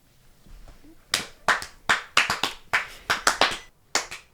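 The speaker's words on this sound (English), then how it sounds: "Can we do like a slow clap" Hands clap loosely and unevenly, about a dozen sharp claps at a slow, ragged pace, close by with no talking.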